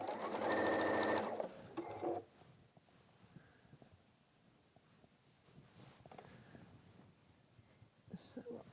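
Sewing a messenger bag, the machine stitches in a loud, rapid burst lasting over a second, then falls silent; quiet handling rustles of fabric follow, with a brief click near the end.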